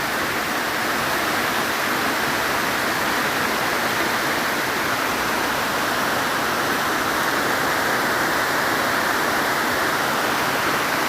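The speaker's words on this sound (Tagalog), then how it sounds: "Lakas-lakas ang ulan." Heavy rain pours steadily in a rural garden plot of eggplant and squash, a dense, even hiss that stays loud and unbroken throughout with no voices.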